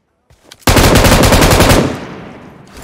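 A long, loud, rapid burst of automatic fire from an M249 machine gun in PUBG Mobile, close and continuous for over a second before trailing off.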